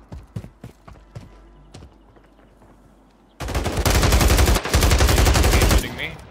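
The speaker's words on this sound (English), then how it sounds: "He's shooting me." Rapid automatic gunfire from an enemy in the battle royale game Warzone Resurgence rattles loudly for about three seconds after a stretch of scattered quieter shots and footsteps.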